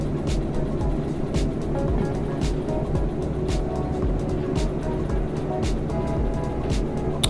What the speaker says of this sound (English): Let's go ahead and pop another bit of notch of throttle or two to get moving.